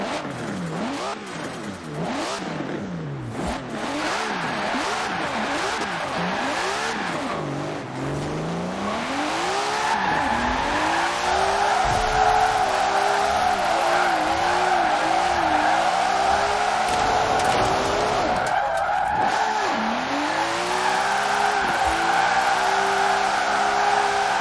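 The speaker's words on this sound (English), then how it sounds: "Now let's go hit a few drift zones." A Datsun 510 drift build in Forza Horizon 4 slides through drift zones, its engine revving and wailing continuously while tires squeal and skid in long sweeping bursts, loud and sustained throughout.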